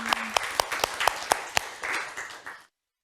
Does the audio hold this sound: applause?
yes